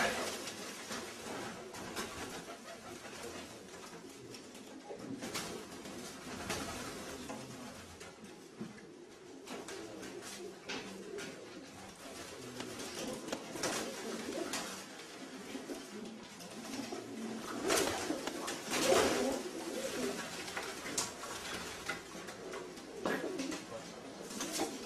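Pigeons coo steadily inside a loft of selected breeding birds, a dense, overlapping murmur of cooing and calls that runs throughout and swells slightly toward the end.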